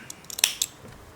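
Scissors snip a small piece of cotton wick for a Taifun GT4 rebuildable atomizer, giving two quick, crisp, close cuts with light handling noise around them and no voices.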